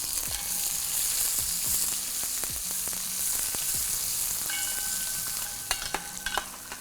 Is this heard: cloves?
yes